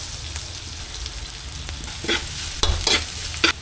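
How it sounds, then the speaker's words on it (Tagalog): Onion and garlic sauté in oil in a pan, a steady sizzle with scraping stir strokes and a few sharper clatters of the utensil near the end. "Gigisa na tayo ng sibuyas. Tapos bawang."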